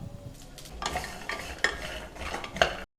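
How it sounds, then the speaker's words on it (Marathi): Cashews and other dry fruits roast in ghee for traditional ladoos while a spoon stirs and scrapes the pan in repeated strokes over a soft, steady sizzle, with no speech. "गोडंबी सोबत हे ड्रायफ्रुट्स आपण पुन्हा व्यवस्थित एखाद 2 चमचे तूप ॲड करून रोस्ट करून"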